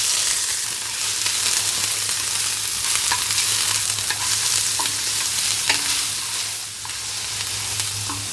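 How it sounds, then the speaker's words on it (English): A wooden paddle stirs one chopped medium onion cooking in an outdoor Firedisc, giving a steady close sizzle with scraping strokes and soft knocks throughout, no voices. "I'm using a wooden paddle to stir around the ingredients in the fire disc"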